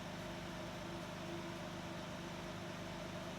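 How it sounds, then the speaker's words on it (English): Mishimoto aftermarket radiator cooling fans blow on a Nissan 350Z as the engine warms up, a steady loud broadband whoosh with a faint hum, continuous and unchanging throughout, with no talking. "Fans are on, blowing quite loud."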